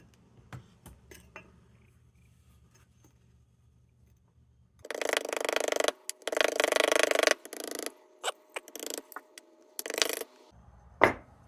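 A part of a Buhl No. 275 hurricane lantern is pressed against a spinning cleaning wheel to strip off carbon, giving several bursts of loud, gritty whirring between quieter clicks and handling noises.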